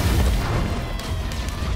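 Firework hits from an item in Risk of Rain 2 land as deep booming bursts, a low rumbling blast at the start and a second muffled thump later, in a short, loud game clip.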